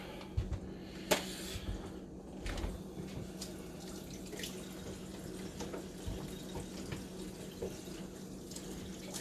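Hands being washed under a running kitchen tap while cooking lasagna with meat and vegetables, a steady low rush of water with a few brief splashes, fairly quiet and without talk.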